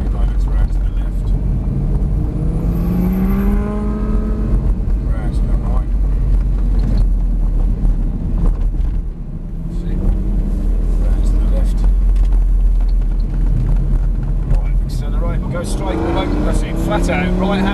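A Lamborghini accelerates around a race track during a track day, its engine a loud continuous roar with rising pitch sweeps. People talk over the engine throughout.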